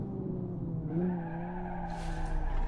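Car tires skidding and squealing in the racing simulator BeamNG.drive, a steady tonal screech that bends in pitch as the car spins out, with engine rumble underneath and a hissy scrape toward the end.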